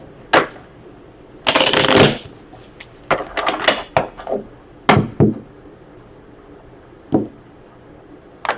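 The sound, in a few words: shuffling tarot cards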